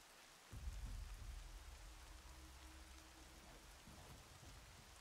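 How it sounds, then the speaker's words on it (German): Steady rain falls in the video game Horizon Zero Dawn, a soft continuous hiss with a low rumble swelling in after a brief quiet start, faint and even throughout with no talk. "Es regnet bei euch rein."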